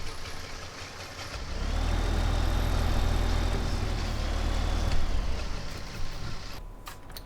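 Tractor engine idling in Farming Simulator 2015, a steady low mechanical rumble that swells slightly after the first second and holds evenly, then cuts off near the end, with no talk over it.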